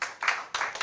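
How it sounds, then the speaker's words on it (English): Audience clapping at an election mobilisation app launch, two brief bursts of applause in quick succession, close and moderately loud. "please clap for the Nigerian youths"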